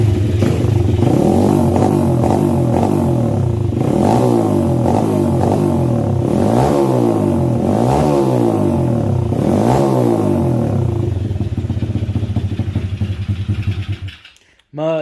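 A small two-stroke motorcycle engine, a CR50-type bike, kicks to life and revs repeatedly in sharp rising and falling bursts, close and loud, before cutting off abruptly near the end.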